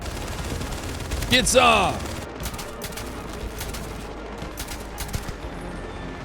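A watchtower in the video game Starfield erupts with rapid bursts of loud gunfire. A voice shouts over the early shots, and scattered sharp reports keep cracking afterward.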